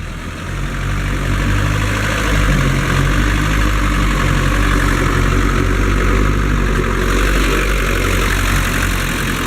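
A 1960 Mercedes-Benz 190D diesel engine idling steadily, a close, continuous low clatter and rumble with no voices over it.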